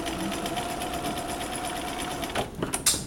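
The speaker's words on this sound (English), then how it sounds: "Stay stitch the interfacing to the neck seam, yeah, to the fashion fabric." A sewing machine stay stitching interfacing to the neck seam of fashion fabric, running with a fast, steady close whir before stopping, followed by a few brief clicks and handling noises.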